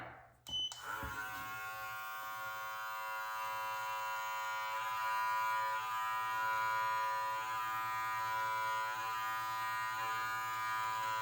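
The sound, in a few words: electric beard trimmer trimming a beard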